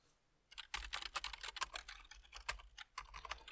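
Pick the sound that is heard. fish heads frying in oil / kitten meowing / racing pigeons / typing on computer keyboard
typing on computer keyboard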